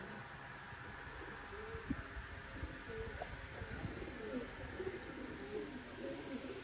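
Tournament racing pigeons coo repeatedly in a rhythmic run, close by and steady, with faint chirps and background noise beneath.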